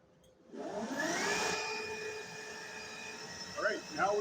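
GM 22SI alternator spinning up on a test bench, a rising whir that settles into a steady loud mechanical drone with a high whine, close up, with a voice speaking briefly near the end.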